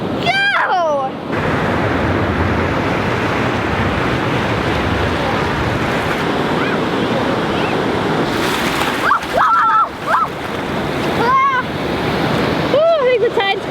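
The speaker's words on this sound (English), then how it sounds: "Oh, I think the tide's coming back in." Ocean waves washing over tide pools at Cabrillo National Monument in San Diego, a steady loud roar of surf with wind buffeting the microphone and voices talking over it at times.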